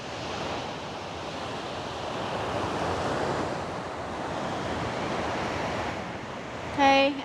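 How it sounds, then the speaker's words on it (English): Water rushes steadily over the dam at the Rideau Canal lock station, a broad continuous roar with some wind noise. It stays even and fairly loud throughout, with a brief tonal sound near the end. "if you remember the dam and rushing water I showed you earlier, so this is what it looks like on the other side."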